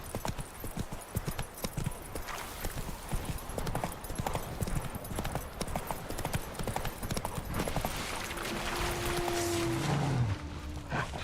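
Roach the horse gallops in The Witcher 3: Wild Hunt, steady rhythmic hoofbeats pounding close and loud throughout, ending with a brief whinny near the close.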